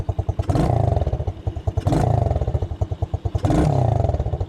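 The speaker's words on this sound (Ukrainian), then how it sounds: "Ось як працює виглопна система." A Spark SP 150-5 quad bike, an updated model for children and teens, runs loud and close, its exhaust chugging steadily and swelling into three sharp revs spaced about 1.5 seconds apart.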